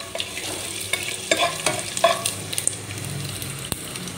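Whole spices sizzle and crackle in a hot pan, with a spoon stirring and scraping in quick irregular strokes; close and fairly loud, with a soft steady frying hiss underneath and no voices.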